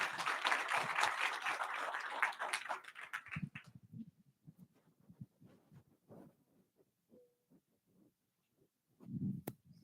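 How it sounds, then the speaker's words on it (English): Brief applause from a small crowd at a county board of education meeting fades out after a few seconds, followed by scattered quiet movement and a low thump. "How about giving Ryan a round of applause"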